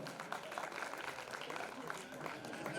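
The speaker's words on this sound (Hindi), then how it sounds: "जोरदार तालियां तुषार के लिए" Faint, steady applause from a crowd at a community award ceremony honoring a student, continuous clapping sustained throughout at a distance.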